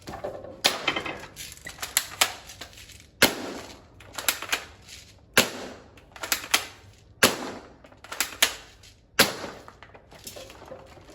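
Sharp snapping shots from a Cyma AK105 airsoft rifle fire in a regular rhythm, each followed by a quick rattle of impact on a single-layer cardboard box, repeating about every second or two at close range.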